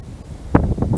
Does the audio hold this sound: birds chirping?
no